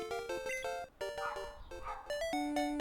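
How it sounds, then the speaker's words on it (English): An overexcited dog barks and yips outside, the calls muffled and distant beneath bright chiptune music and beeping effects from the Game Boy game Pokemon Red. "There is a dog that is a little bit too excited outside."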